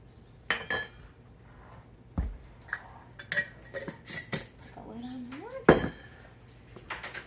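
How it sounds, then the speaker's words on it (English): Peanut butter powder being stirred into pancake biscuit batter in a bowl, scattered clinks and scrapes of a utensil against the bowl, close and uneven, with a brief squeaky sound midway. "Stir that up a little bit."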